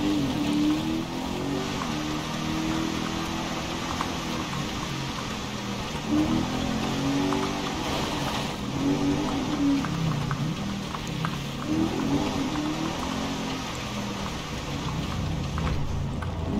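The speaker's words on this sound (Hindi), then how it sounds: "ऐसे भी गाड़ी चलाने में मज़ा आता है यार" A car driven along a dirt road in GTA 5, a continuous engine drone with wavering pitch and rumbling road noise, steady and fairly loud throughout with no voices.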